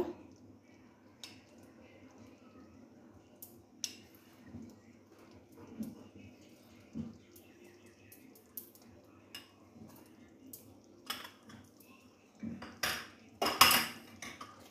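Mung dal with a fish head is stirred in a pot, with quiet, irregular clinks of spoon against metal that build into a cluster of louder clanks at the end over a faint low background.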